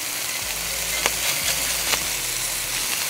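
Smashburgers sizzling on a Blackstone griddle just after flipping, a loud, steady frying hiss close up with a few faint scrapes of a spatula and no talking.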